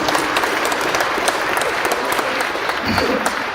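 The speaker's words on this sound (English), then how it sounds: "Let's give Claire a big round of applause and our drum group, Plains Ojibwe." Sustained applause from a crowd, dense steady clapping filling the whole stretch without pause, fairly loud and close.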